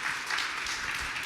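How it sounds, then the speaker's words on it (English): Audience applause at a talk on philosophy and life, a steady broadband wash of clapping filling the whole short stretch at moderate level, with no speech. "you can go ahead and clap"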